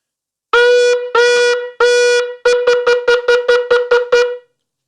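A shofar blows the shvarim, three medium-length wavering blasts, then the trua, a rapid series of nine short staccato bursts, loud and clear with nothing else around it.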